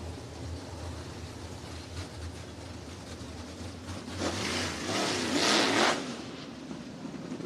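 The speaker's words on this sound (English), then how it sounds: "Heat race number 1 of 3 for the Friesen Performance IMCA Modifieds." IMCA Modified race cars run a heat race on a dirt track at Santa Maria Raceway in Nipomo, California, their engines a steady distant roar that swells louder for a couple of seconds as the pack passes.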